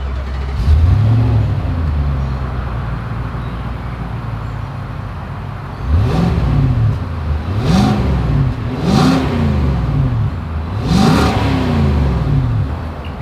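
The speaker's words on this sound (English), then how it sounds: "As always, here is that exhaust clip." A 2022 Nissan Armada three-row SUV's exhaust rumbles at idle nearby, then rises in four or five distinct revs in quick succession, each climbing and falling, with no talking over it.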